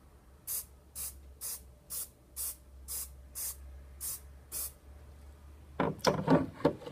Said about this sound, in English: from about 30 centimetres away I'm just going to spray a coat